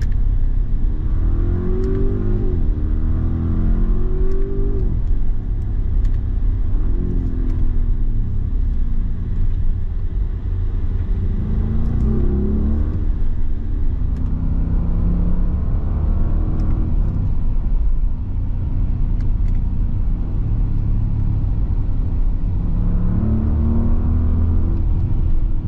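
Audi RSQ8 accelerating hard in first gear in RS mode through a tunnel, a loud, continuous engine roar that climbs in repeated surges through the gears, echoing off the walls, with no talk.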